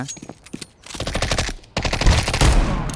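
Gunfire in a shooting video game, loud rapid bursts of automatic fire in two long volleys with short single shots before them, close and harsh.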